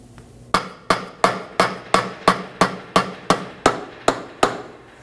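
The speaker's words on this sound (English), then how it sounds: "I'm going to take a rubber mallet and strike the drive shaft on the lip to disengage it from our transfer case" A rubber mallet strikes the lip of a Chevrolet Trax drive shaft to free it from the transfer case, landing about a dozen sharp, evenly spaced blows that ring briefly and decay, close and loud, with no talk.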